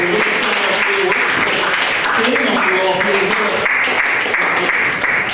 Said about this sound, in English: Let me see your round of applause for everything you did tonight